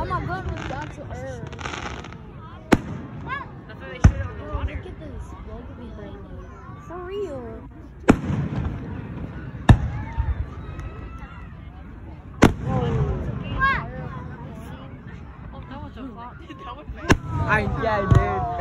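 Fireworks burst outdoors in a string of sharp, loud bangs spaced a few seconds apart, with excited voices talking throughout and between the blasts.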